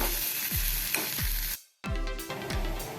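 Mashed potato samosa filling stirred in a hot pan, with rhythmic scraping strokes of a spoon over a soft sizzle, close up, one brief silent gap midway, no voices.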